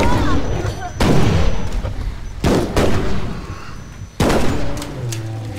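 Loud, sharp gunshots ring out in the hunting game Bigfoot during rain, several spaced blasts with echoing tails and heavy low thump. Voices talk between the shots.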